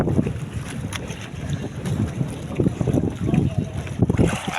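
Wind and waves batter a small fishing boat at sea during a storm, a continuous rough rumble with churning water surges and gusting wind noise against the microphone, and voices faintly heard underneath.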